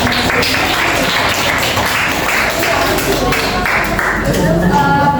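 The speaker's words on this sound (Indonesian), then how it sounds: "tepuk tangan untuk kelompok 5" Classmates in a high school classroom applaud a student group after its math presentation. The clapping is loud and close, with sharp individual taps and continuous claps throughout, and voices mixed in.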